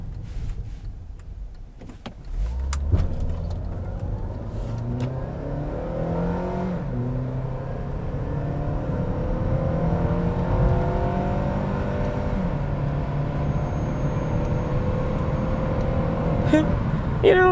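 An Acura TSX Sport Wagon engine revs up and accelerates, its pitch climbing through the gears with a steady, powerful drone close by.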